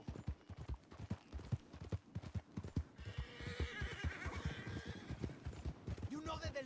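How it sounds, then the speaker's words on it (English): Horses gallop with dense, rapid clip-clop hoofbeats and whinnies in Red Dead Redemption 2, loud and steady, joined midway by a rising roar of wind-like noise, with a voice speaking over the action. "You hear those horses, those shots?"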